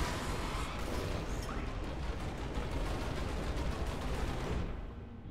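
Explosions in the video game Transistor form a dense, continuous roar of bursts and crashing blasts that stays loud and unbroken before cutting off abruptly at the end.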